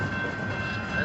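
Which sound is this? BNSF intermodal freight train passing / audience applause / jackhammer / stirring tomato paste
BNSF intermodal freight train passing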